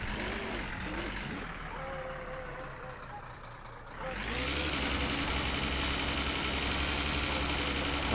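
A weak tractor engine in My Summer Car labours under load, a dense mid-pitched drone that dips briefly and then surges louder and rougher as it strains while towing.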